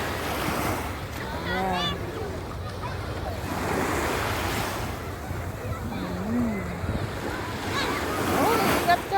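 Strong sea waves surge and wash in steadily at Fahaheel, Kuwait, with wind buffeting the microphone throughout and people talking and calling out over the surf.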